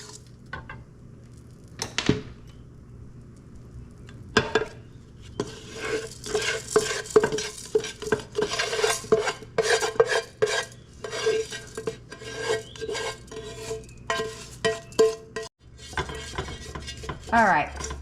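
Rice is stirred and fried in a big pan, a run of scraping, rasping utensil strokes and clinks over a low sizzle, busy and close.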